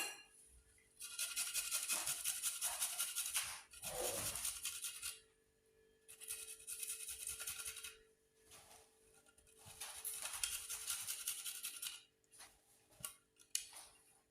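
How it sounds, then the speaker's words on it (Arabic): Garlic cloves grated by hand for a Moroccan onion tagine with honeyed raisins, giving repeated bursts of dry, rasping scrapes with short pauses between strokes. The sound is close and steady, with no talk. "تنحك الثومه"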